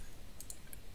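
A couple of quick, faint mouse clicks sound against a quiet background, the pair landing close together.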